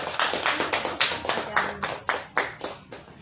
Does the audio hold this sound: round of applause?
yes